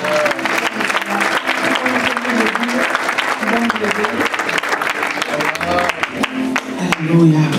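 A church congregation applauds to acclaim the Lord, steady clapping filling the room under mixed voices and cheering.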